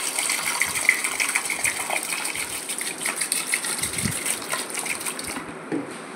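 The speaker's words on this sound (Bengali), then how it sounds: "চালটা আমি পরিষ্কার করে ধুয়ে নিচ্ছি" Water gushes steadily from a tap while rice is washed, a continuous close splashing flow that cuts off near the end.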